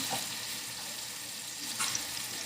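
Onion strips frying in hot oil, a steady soft sizzle and bubbling hiss throughout, close and even with a faint crackle near the end.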